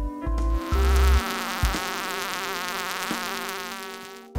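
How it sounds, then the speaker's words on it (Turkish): Insects such as bees or flies beat their wings in a steady, close buzzing drone with a slightly wavering pitch, sounding alone for several seconds. "arılar veya sinekler 1 saniyede 200 ila 400 defa kanat çırpabiliyor"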